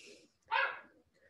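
One sharp, fairly close dog bark rises midway through a quiet indoor room, with faint background sound around it.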